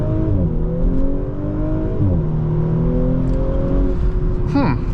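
A 2020 Audi S4 3.0T Premium Plus launching from a standstill and accelerating hard through several rising gear pulls, its engine loud and close from inside the cabin, with a brief shift near the end.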